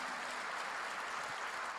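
A church congregation claps during a Korean sermon, a thick, loud, continuous roar of many hands with no break across the short stretch.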